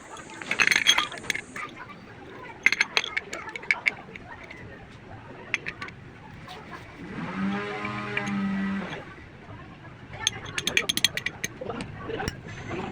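Screws being fitted back in while reinstalling motorcycle sprockets: sharp ratcheting clicks and metallic ticks in bursts, close up, with a stretch of speech in the middle.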